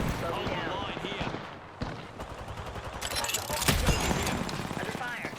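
Gunfire rattles in Apex Legends, with bursts of rapid shots and single cracks over game sounds, loud and close in places, while a player's voice talks over the action.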